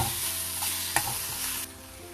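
A spoon stirs a peanut, tomato and raw onion chutney mixture with salt, coriander and tamarind pulp in a pan on the stove, scraping and sizzling steadily with one sharp clack near the middle, then quieter near the end.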